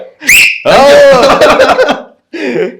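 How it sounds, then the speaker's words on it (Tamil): A person whistles a short high note, followed by a burst of talking, then a brief whistle-like tone near the end. "என்ன விசில் அடிக்கிறீங்க நீங்க?"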